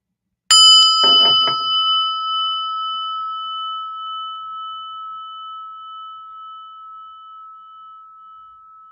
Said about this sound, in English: we're going to listen to a prayer bell